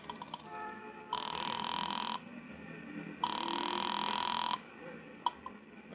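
A 1949 radio-drama telephone rings after a number is dialed on a pay phone: two long, steady ring bursts with a short pause between, clear and upfront over a faint background.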